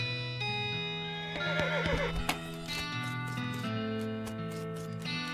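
A horse neighs in the video game West of Loathing, a loud whinny over clip-clop hooves and a steady musical background, with a second whinny later.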